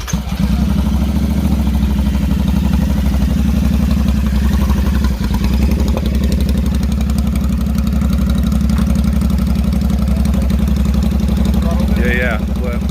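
A motorcycle with its exhaust deleted idles loudly with a raw, rapid, choppy exhaust burble close by, steady throughout, with brief voices at the end.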